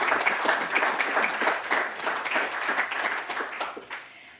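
Sustained audience applause at a Slovenian government awards ceremony, dense steady clapping from a large crowd that carries on for several seconds, then begins to taper off near the end.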